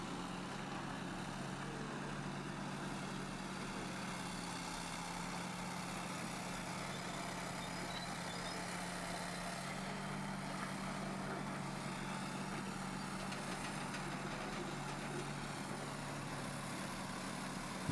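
Caterpillar heavy machinery at a quarry working weekend idles with a steady low diesel rumble, a continuous close engine drone holding throughout with no talk.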